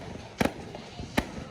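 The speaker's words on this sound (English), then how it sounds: "Oh, seeing some more fireworks for free." Fireworks bursting at a Fourth of July show in Madison, Wisconsin: two sharp booming pops, the first a quick double, the second a single loud crack, over a steady murmuring background.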